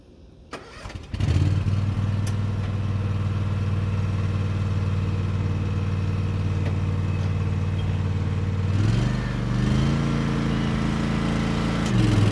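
A lawn mower engine pulls over and catches after a second of quiet, then runs loud and steady nearby with a low rumbling drone, its pitch rising briefly near the end.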